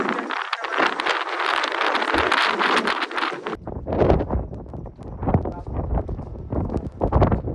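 Strong wind sweeps across the misty hilltop of Rajgad fort, roaring and buffeting the microphone in loud, continuous gusts, then turning choppier and more broken.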